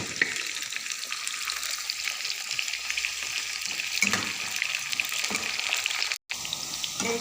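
Small chicken pieces cooking with spices in a pan give a steady close sizzle with faint stirring scrapes, broken by a brief dropout near the end.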